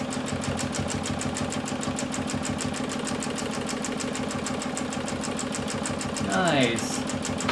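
A sewing machine runs steadily during free motion quilting, its fast even needle chatter close and constant, with a short rising whir near the end.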